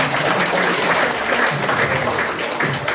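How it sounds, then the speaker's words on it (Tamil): Audience applause fills a Tamil mind-power training centre event, a dense, steady wash of many hands clapping at once, loud and close, lasting throughout with no speech over it. "கைதட்டுங்க"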